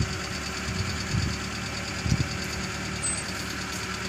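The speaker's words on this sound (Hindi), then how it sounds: "इंजन का जो साउंड है ना" A car engine idles with a steady low rumble and a slight uneven knock while the car is held on a steep slope, with a couple of small bumps in the drone and no talking.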